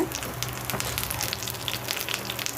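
Fresh curry leaves and garlic fry in a pan for a green peanut kuzhambu, giving off a dense, busy crackle and spatter with sharp pops throughout and no talking.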